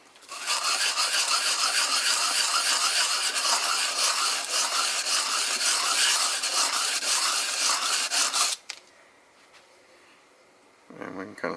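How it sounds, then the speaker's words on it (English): Grinding down hot spots on a lathe tool holder, a steady loud abrasive rasping for about eight seconds that stops abruptly, followed by quiet and a faint scrape at the end. "Right where those hot spots are,"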